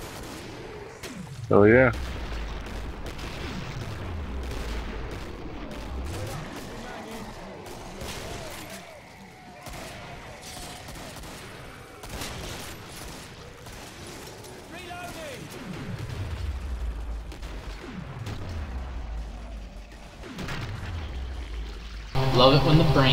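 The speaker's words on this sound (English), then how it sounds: "My lever action now kills rocket guys in one shot." Heavy single shots from a lever-action rifle boom at intervals in the Killing Floor game on The Manor map, each with a deep decaying tail, heard under occasional speech from a player.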